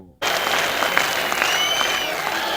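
Steady applause from an audience filling an auditorium at a New Year's stage show in Jalandhar, starting abruptly after a brief moment of near silence and holding dense and loud without letting up.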